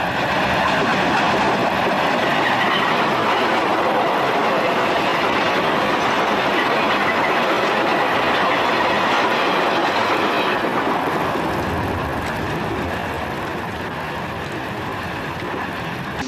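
An Erie Lackawanna train passes through a grade crossing at Denville on the main line, loud and close, with a steady rumble and clickety-clack of wheels that fades slightly toward the end.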